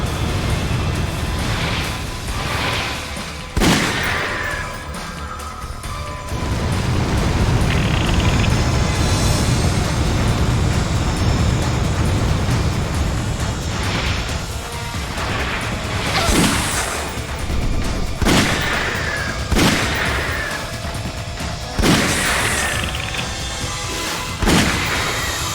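Gunfire and heavy impacts in Resident Evil: The Umbrella Chronicles on Wii, loud booming blasts recurring at irregular intervals over a rumbling game soundtrack, with no talking.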